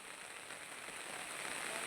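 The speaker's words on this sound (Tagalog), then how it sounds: "Sige ulan na mahugmo" Rain falling outdoors near a house in Cagayan, a soft, even, steady patter and hiss, faint and continuous across the short stretch with no talk.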